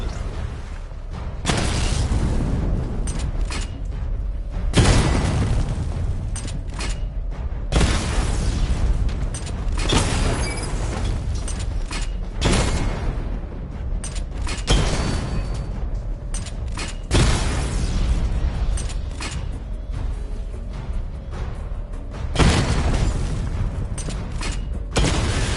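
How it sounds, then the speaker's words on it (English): Missile barrage explosions in Batman: Arkham Knight, a series of heavy, booming blasts that come roughly every few seconds, each followed by a rumbling, grinding tail, loud and with no voices over them. "Charge the missile barrage to level 2 to destroy up to 4 targets at once."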